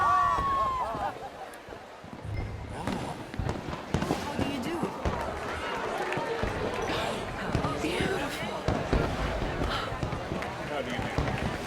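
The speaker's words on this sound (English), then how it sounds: "Let me enjoy the fireworks." Fireworks in the video game Red Dead Redemption 2 crackle and pop repeatedly in a busy, dense burst of bangs and sizzles, heard alongside someone talking over the scene.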